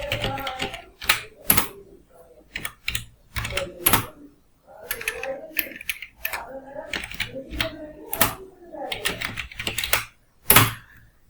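Keys clack on a computer keyboard while Malayalam text is typed, with irregular bursts of sharp taps and pauses and a voice murmuring intermittently between them.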